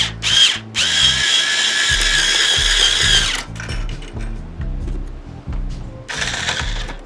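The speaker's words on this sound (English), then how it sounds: "let's go ahead and tighten this truss rod up" Power driver or drill whirring in bursts while the truss rod of a Warwick bass is tightened, two long close high whines separated by quieter mechanical clicking and handling noise.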